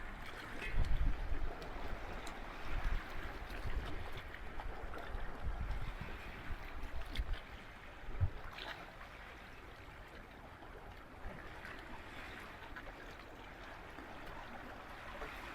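Steady wash of water with a soft, continuous rumble, like waves lapping on a shore nearby, with no voices.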